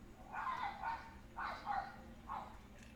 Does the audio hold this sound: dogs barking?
yes